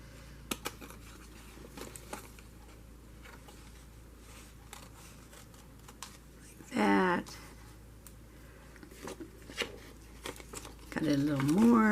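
Scissors cut paper at close range, giving faint, scattered snips and crinkles over a quiet background, broken by a couple of short, louder voiced sounds.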